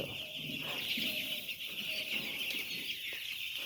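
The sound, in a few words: chickens clucking on a poultry farm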